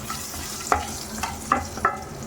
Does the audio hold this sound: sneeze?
no